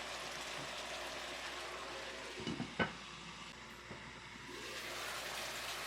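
Beef and pumpkin stir fry cooks in a pan with a steady sizzle, and a few soft clinks and knocks come near the middle. No one speaks.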